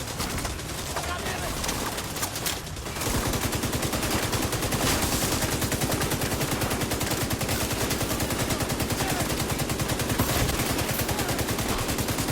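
A minigun firing in The Division 2, heard as a loud, continuous rapid-fire roar that starts after a brief pause and keeps going steadily to the end, with game sounds and voices underneath.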